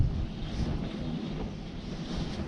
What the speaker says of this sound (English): Do you hear the wind?